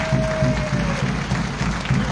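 Crowd applause at a political alliance congress in Vacoas, loud clapping mixed with a rhythmic low pounding, like drumming or stamping, pulsing in a steady beat underneath.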